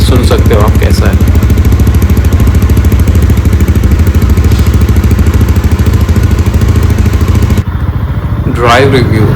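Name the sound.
Jawa 42 FJ motorcycle engine running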